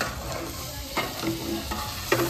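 Food being stirred in a large pot over the fire for a Ganesh Chaturthi annadanam meal, with a steady sizzling-frying bed and a few sharp scraping strokes of the ladle, close and fairly loud, with no one talking.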